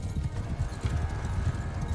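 Horses trot across a battlefield in Mount and Blade Bannerlord, a close, rapid clip-clop of hooves in an uneven rhythm over a low rumble, with no talk.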